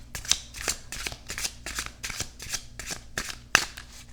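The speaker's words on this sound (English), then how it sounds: "I'm going to do 3 shuffles." An oracle card deck is shuffled by hand in a quiet room, a rhythmic series of crisp riffling bursts about every half second, close and clear.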